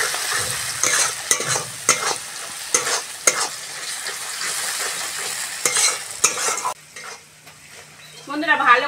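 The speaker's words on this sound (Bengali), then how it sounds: "বন্ধুরা ভালো করে মশলাগুলো কষে নিয়েছি।" Ground spices, including chilli powder, salt, coriander, cumin and cashew paste, sautéing in a pan for Bengali doi potol, with close, repeated scraping stirs over a steady sizzle that drops away near the end.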